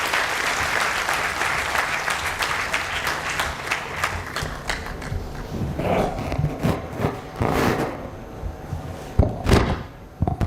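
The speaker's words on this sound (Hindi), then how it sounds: "जरा जोरदार तालियों से स्वागत कीजिए" Loud audience applause at an annual general body meeting of a bank officers' association in Pune, steady and sustained clapping welcoming a speaker, with a few sharp louder claps and thumps near the end.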